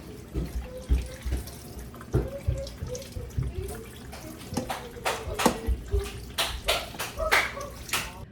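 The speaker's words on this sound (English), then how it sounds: "I'm going to wash the vegetables and chop the vegetables" A kitchen tap runs over vegetables being washed in a sink, giving uneven splashing bursts and gushes that rise and fall, with occasional clunks.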